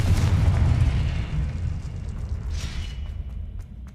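A Confringo blasting spell explodes in Hogwarts Legacy, a loud, broad low boom that rumbles and decays over several seconds, with a faint whooshing tail near the end.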